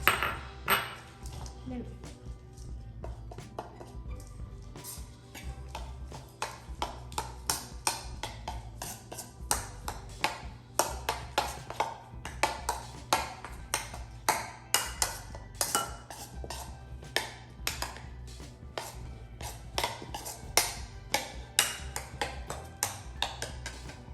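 Xanthan gum and egg white being mixed in a bowl, rapid irregular utensil clinks and taps against the bowl, close and steady throughout.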